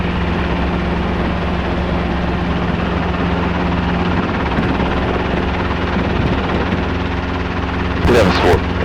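A Robinson R22 helicopter runs steadily at an airfield, its low rotor and engine drone constant throughout, with a brief burst of louder noise near the end; voices are faintly present.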